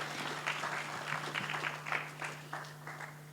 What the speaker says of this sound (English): Let's give her a hand.